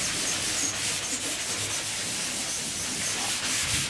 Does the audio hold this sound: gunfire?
no